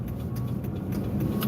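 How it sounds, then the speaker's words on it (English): Inside a moving truck cab, a steady low engine rumble and road drone fill the space, loud and constant throughout with faint rattles on top and no talking. "forgive me for all this background noise, man. I'm in this truck"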